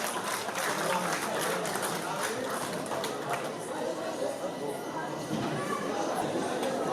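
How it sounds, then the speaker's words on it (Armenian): Guests at a family celebration clap for Grandma Rosa, a steady, dense wash of applause mixed with crowd chatter that holds for the whole stretch. "Ծափահարությունները նաև Ռոզա Տատիկին։"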